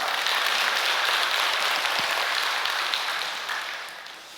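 Audience applause at a church peace blessing ceremony, steady and dense clapping throughout that fades gradually toward the end.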